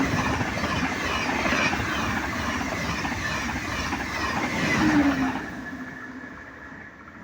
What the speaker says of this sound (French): TGV Atlantique.